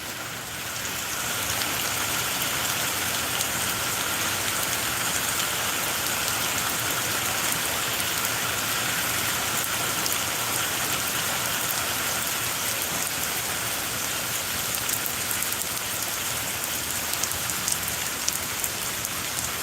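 Steady afternoon rain falls and patters on surfaces in a dense, continuous wash that stays even throughout, with no voices over it.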